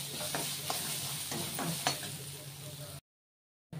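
Green chili masala is stirred in a hot pan, with a soft sizzle under a few close scraping strokes that stop abruptly into brief silence.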